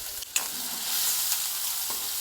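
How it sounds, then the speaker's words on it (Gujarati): Finely chopped onions hit a hot mustard-cumin tempering with dried red chilli, setting off a sudden loud sizzle that settles into steady frying hiss with light stirring. "વઘાર સરસ કકડી જાય એટલે 2 મીડિયમ સાઇઝની ડુંગળી બારીક સમારીને લીધેલી છે એ ઉમેરી દઈશું"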